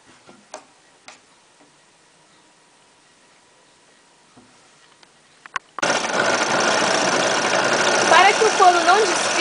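An overlock machine runs loud and steady, stitching the edges of a leather shorts or pyjama piece, starting abruptly partway through after a few faint ticks and taps.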